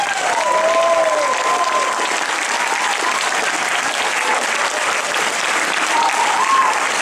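A thunderous round of audience applause for a singer at a regional talent final, dense and sustained from a large crowd throughout, with no voices standing out.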